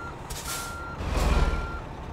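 Reversing beeps from a truck in American Truck Simulator, a steady electronic tone sounding over the idling engine, followed by a loud hiss like an air brake and a rumbling swell, no talk.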